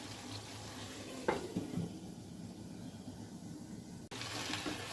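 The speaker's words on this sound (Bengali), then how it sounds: "একটু গরম জল দিব আর একটু সময় আমরা ভালো করে কষিয়ে নিব" Chicken kosha cooks in a pan after a splash of hot water is added, giving a faint, steady sizzle with a spoon stirring through the thick gravy now and then.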